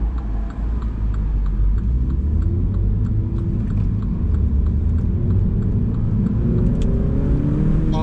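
A Mini fitted with a JCW Pro Tuning exhaust drones with a deep, steady rumble from inside the car, the engine note rising gradually as revs climb.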